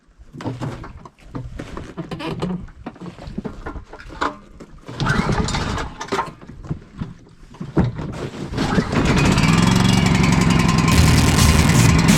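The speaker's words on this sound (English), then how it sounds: "let's go start the generator up and get stuff rolling" A generator starts at a dark outdoor renovation site, sputtering through several uneven bursts before settling into a loud, steady engine drone that runs on alone.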